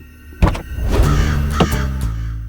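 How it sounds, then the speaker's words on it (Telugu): A black crow gives a few short caws close by, mixed with a soft thump, in a brief outdoor moment. "ఓ నల్ల కాకి దిగుతుంది చూడు"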